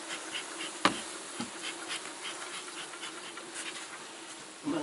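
Honey bees buzzing in an opened hive as the lid comes off during queen rearing, a dense continuous drone close by, broken by a sharp knock or two from handling the equipment.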